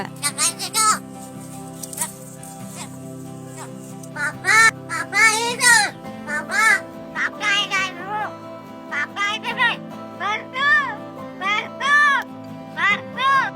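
A crow in Palghar district, Maharashtra, India, caws in short bursts that rise and fall like human speech, mimicking it, repeated many times, close and fairly loud.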